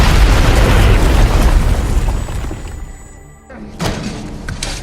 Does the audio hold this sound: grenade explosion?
yes